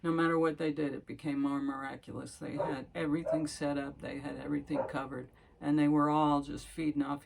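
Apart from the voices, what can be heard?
No everyday noises stand out.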